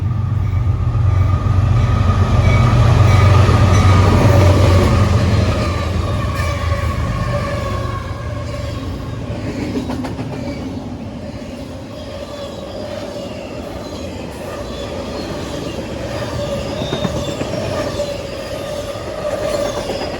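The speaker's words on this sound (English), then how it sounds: "we got a CSX Eastbound Intermodal train down that line" A CSX eastbound intermodal freight train rolls past a station platform, a loud steady rumble with wheel clatter and faint squeal that swells early, eases, then builds again for about twenty seconds, with no talking.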